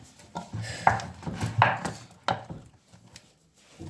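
Choux pastry dough being mixed by hand in a bowl gives a few irregular thuds and scraping knocks, close and fairly soft, with no talking.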